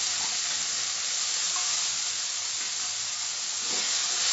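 Capsicum pieces and mushrooms sizzle steadily in a pan over medium heat, a continuous close frying hiss with faint stirring, no voices.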